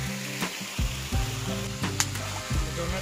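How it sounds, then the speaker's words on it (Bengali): Water from the West Nalichara waterfall in Tripura crashes down and churns into foam, a steady, close, full rushing roar that runs throughout with a few brief louder surges. "ওই দেখো জল ফুটছে, একদম ফেনা হইতেছে, জল পড়তে পড়তে পুরা ফেনা"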